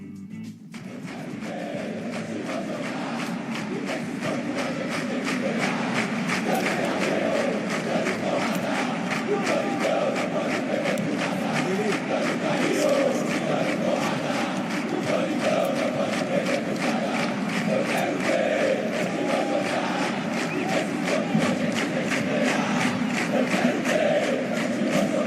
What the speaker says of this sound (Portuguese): Então vamos ver a torcida do Corinthians no treino do time ontem lá na Arena.